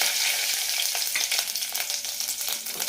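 Mustard seeds, curry leaves and asafoetida sizzle and crackle in hot oil for an amla pickle, a dense, steady hiss with scattered pops close by, no talking.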